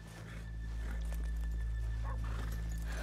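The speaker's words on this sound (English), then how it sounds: "Let's leave the horses here off the main drag." Horses in the Red Dead Redemption 2 video game snort and whinny faintly over a low rumble in a town street, with light hoof movement and nobody talking.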